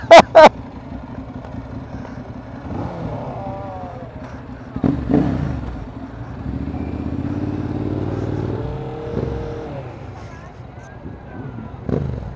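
A vehicle exhaust revs on a busy Times Square street: a low, rumbling engine drone swells and rises in pitch through the middle, with passing traffic and nearby voices chatting over it.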